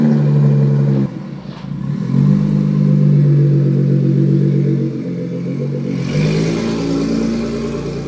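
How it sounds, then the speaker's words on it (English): A Nissan GTR with a new Ecutech tune idles and revs close by, its engine note rising and falling with a steady low rumble and some mechanical clatter throughout. "listen to the car for a second"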